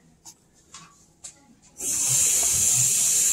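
Water poured from a container into a Shimpo pugmill holding clay chunks: a few faint knocks at first, then a sudden loud, steady rushing hiss of water that continues to the end.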